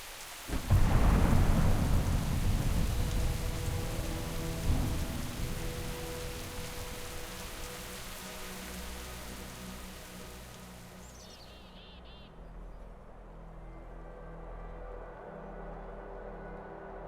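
A thunderstorm in World of Warcraft Dragonflight opens with a loud, close thunderclap that rolls and fades into steady rain, which thins out toward the end, with no talk.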